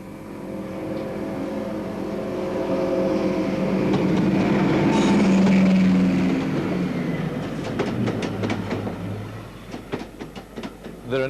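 A Deltic diesel-electric locomotive, a 3,300-horsepower twin-engine production class, swells into a loud roaring rumble as it passes close by, then fades into rhythmic rail clatter and wheel clicks.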